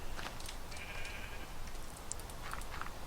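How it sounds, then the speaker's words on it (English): Several short sheep bleats from the Minecraft video game ring out at moderate volume over a steady background hiss, with no talking. "These sheep are getting too clever."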